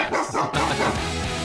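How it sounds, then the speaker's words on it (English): A dog barks a few times close by, short loud woofs that run into a rough, noisy stretch, with no talking. "Dog."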